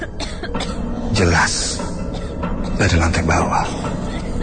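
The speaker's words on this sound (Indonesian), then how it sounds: "Kembali batuk itu terdengar berulang-ulang" Repeated coughs break out amid a person talking, a few harsh bursts clustered together, fairly close and loud.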